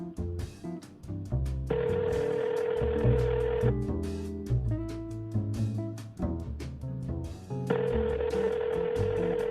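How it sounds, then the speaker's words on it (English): A telephone rings repeatedly with no answer, periodic ring bursts recurring over a busy bed of background music, steady and moderately loud throughout. "these people would answer the damn phone."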